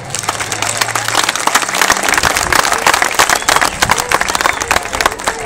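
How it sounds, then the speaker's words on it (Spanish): A crowd applauds at a political event for a state deputy, dense steady clapping that stays loud and close throughout, with some mixed voices and a brief low hum at the start. "Gracias, un aplauso."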